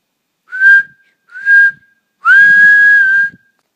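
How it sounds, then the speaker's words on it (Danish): A referee's whistle ends a football match with three loud, close blasts: two short sharp toots followed by one long sustained one. "Hvordan fløjter du af?"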